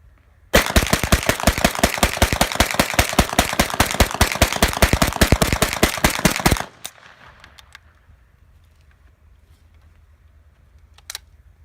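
A Heckler & Koch MP5-K submachine gun fires a full 30-round magazine in one long, rapid, very loud automatic burst of evenly spaced shots lasting about six seconds. Quiet rustling and a sharp click follow.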